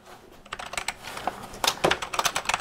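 Fast typing on a squishy, non-mechanical Mitsumi-made Osicom OfficeMate keyboard from an Osicom OfficeMate 286 computer, a close run of soft irregular key taps that speeds into dense bursts.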